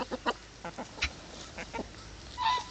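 Chickens are close by, fussing over Chinese-food noodles, with short clucks and squawks scattered irregularly alongside soft pecking and scuffling sounds and a louder call near the end.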